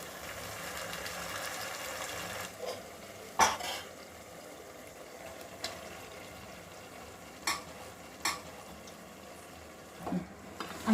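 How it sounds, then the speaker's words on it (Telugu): Spoon stirring tomatoes, turmeric, ginger and onion in a pan for palak chicken curry, with soft scraping over a low sizzle and a few sharp clinks of utensil against the pan scattered through, no talking. "అంతా కలిసేలా మంచిగా కలపాలి."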